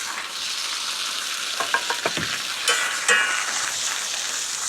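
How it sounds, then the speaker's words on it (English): Spinach sizzles in a hot pan with oil, a loud, steady frying hiss broken by a few sharp crackles and the clatter of stirring, close up with no speech. "You can hear that sizzle. The spinach cooks."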